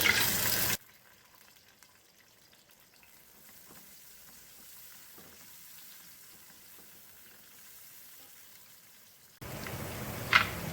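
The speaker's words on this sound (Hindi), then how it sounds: "अब हम इसमें प्याज फ्राई करेंगे" Sliced onions sizzle in two spoonfuls of hot oil for a village-style mutton and bottle gourd curry. A loud crackling fry opens and closes the stretch, with a much quieter, faint sizzle in between.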